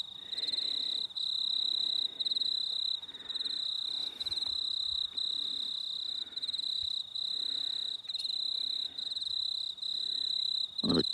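Crickets chirp steadily at night in a cemetery, a constant high trill pulsing in regular bursts, with faint low rumbles underneath and no talking.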